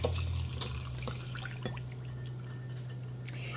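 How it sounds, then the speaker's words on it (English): One cup of water is poured onto quinoa in a kitchen, a faint, steady trickle lasting a few seconds over a low background hum. "we're going to put 1 cup water"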